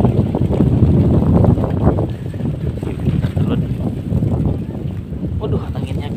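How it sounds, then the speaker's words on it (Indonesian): Strong wind sweeps across a hillside snapdragon flower garden, roaring and buffeting close to the microphone in uneven gusts that ease slightly partway through. "Waduh, anginnya gede juga pada ya"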